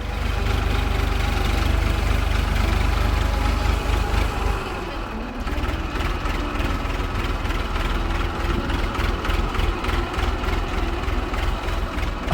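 A tractor engine runs steadily at close range on a farm in a village, a loud, throbbing, knocking diesel chug that briefly dips around the middle before resuming at full strength.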